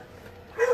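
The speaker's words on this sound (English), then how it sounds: "pardon my dog's barking" A single short dog bark near the end, close and fairly loud, after a quiet stretch of room tone.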